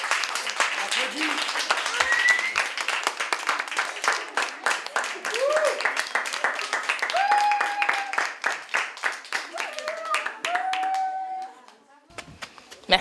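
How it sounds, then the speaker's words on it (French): Audience clapping at an outdoor street theatre performance, a dense burst of applause from a crowd lasting several seconds with whistles and voices mixed in, then tapering off near the end. "Allez, applaudis."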